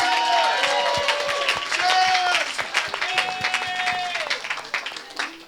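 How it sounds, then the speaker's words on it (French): A church congregation at a deliverance service applauds and cheers, sustained clapping under loud shouts and voices, with an amplified voice carrying over the crowd before the clapping thins out. "Donnez une grande acclamation à Jésus-Christ"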